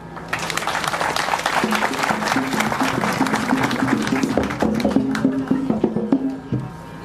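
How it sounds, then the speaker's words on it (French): Applause fills a hall at the ceremony for a processing plant: dense, continuous clapping from a large audience that runs for several seconds and then fades out near the end. "Je vous prie d'applaudir."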